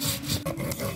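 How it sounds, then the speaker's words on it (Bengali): Cumin seeds ground by hand on a grinding stone for an egg curry, a short, close rasping scrape of stone rubbing over stone, heard alone. "বেটে নিব জিরা।"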